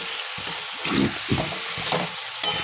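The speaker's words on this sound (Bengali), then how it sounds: "এইবার কুমড়োগুলোকে ভালো করে ভেজে নিয়ে তারপর আলুটা দেব।" Pumpkin pieces fry in oil in a pan while being stirred, giving a steady close sizzle with irregular scraping and clattering strokes, no voices.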